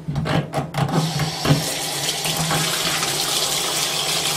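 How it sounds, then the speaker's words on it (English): Tepid water runs steadily from a tap into a sink for washing wool, a continuous rushing splash with a few bumps and clunks at the start. "I'm going to fill the water back with tepid water."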